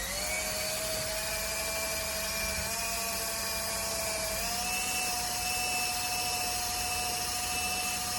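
A power drill whines steadily and loudly on its own throughout, a high sustained tone that shifts pitch slightly partway through, used on the side of a workpiece during a DIY refinishing job.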